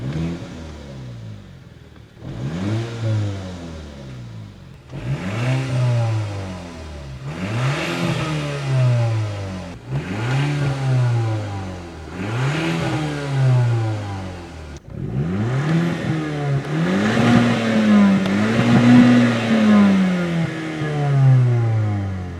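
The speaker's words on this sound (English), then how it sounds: "let's give it a little rev. Let's hear the engine." A cheap used Audi S3 sits stationary while its engine is revved hard five times in a steady rhythm, each rise falling back to idle. One longer, wavering rev follows, all close and loud.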